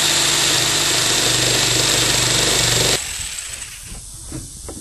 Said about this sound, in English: I'm going to cut the top off of it.